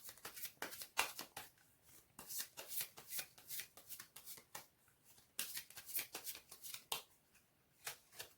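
Tarot cards shuffled for a reading, a close series of quick riffling bursts that come in uneven waves with short pauses between, crisp and papery, with no voices.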